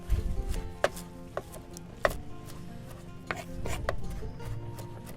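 Knife chopping parsley on a cutting board, a handful of sharp separate knocks spaced unevenly across a few seconds, close and fairly quiet, with a low kitchen rumble underneath.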